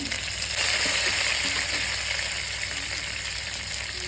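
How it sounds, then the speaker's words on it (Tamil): Mint leaves tossed into a frying pan with chana dal while making meal maker tomato rice, giving a steady, loud sizzle and spatter that carries unbroken throughout. "நான் இப்போ புதினா போட்டுக்கிறேன்,"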